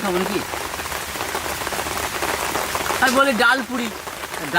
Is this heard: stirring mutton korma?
no